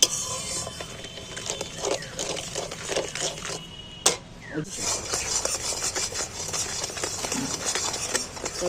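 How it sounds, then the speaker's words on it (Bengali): Sugar for orange peel candy is stirred in a pan, giving repeated scraping and rasping strokes of a spoon against the metal, close and fairly loud with a brief pause midway, no talk. "এবার আমি চিনিটাকে একটু পাক করে নেব ফুটিয়ে নেব"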